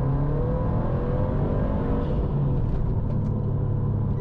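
Turbocharged Subaru STI (GR/VA) engine under hard acceleration through 3,000 rpm, heard as a dense, continuous, close engine rumble and roar that holds steady throughout the short stretch, with no voices.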